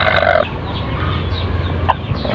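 Brooding Texas breed hens cluck and croon loudly close by, a continuous burble of chicken calls with a higher squawk at the start and another short call near the end.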